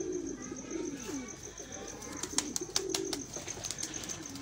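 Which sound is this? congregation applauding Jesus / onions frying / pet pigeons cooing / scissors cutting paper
pet pigeons cooing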